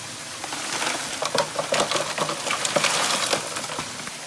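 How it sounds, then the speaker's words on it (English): Water and gold-bearing material wash down a small sluice with a steady, close rushing hiss, speckled with light gritty ticks and patters, and no voices. "we'll just set up the little sluice and run the bucket down the little sluice"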